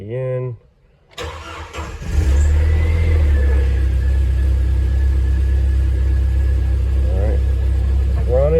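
A Jeep Wrangler 2.5L engine cranks and catches after a brief pause, then settles into a steady, loud, close idle after power steering pump replacement, with a voice heard briefly before the start.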